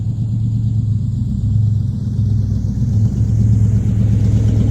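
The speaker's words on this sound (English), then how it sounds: "I don't know if this thing actually has like a dead hole or three, or if it just sounds that way because of the blown out muffler." A 1963 Chrysler 300J V8 with a blown-out muffler runs at a steady idle, giving a loud, deep, rough rumble that holds constant and close by, with no talking.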